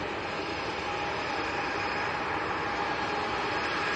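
A Ryanair Boeing 737-800 leaves Leeds Bradford Airport for Dublin, its jet engines giving a continuous, even broadband roar at moderate distance, with no voices.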